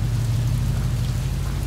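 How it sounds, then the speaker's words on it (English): Steady rain falling with a low continuous rumble of rolling thunder underneath, close and even throughout the short stretch, no voices. "rolling thunder right there."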